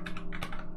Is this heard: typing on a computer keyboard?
yes